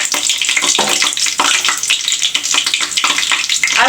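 Slit green chilies hit hot oil in a pan while cooking sehjan ki sabzi, a loud, close, steady crackling sizzle with bursts of spitting throughout.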